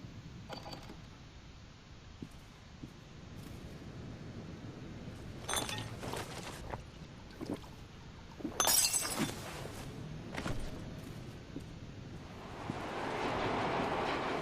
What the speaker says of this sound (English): Hey, there's the train again.